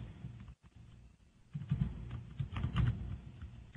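Keys on a computer keyboard tap in irregular bursts, faint at first and then busier and louder in the second half, with no voices.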